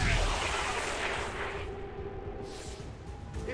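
Gunfire and booming weapon blasts from the XCOM 2: War of the Chosen video game, a loud dense burst at the start that rumbles on and fades, with a few softer shots following.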